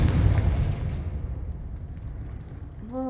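A Confringo blasting spell explodes in Hogwarts Legacy, a heavy, booming blast that rumbles loudly at first and then slowly fades into a low, lingering roll.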